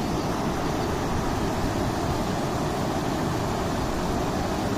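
A rushing mountain river in the Carpathians in spring, a steady, dense roar of fast water with no breaks, loud and constant throughout.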